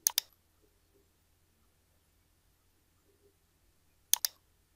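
Two sharp computer mouse clicks at the start, followed by a long quiet stretch and two more clicks near the end, while working in SketchUp modeling software.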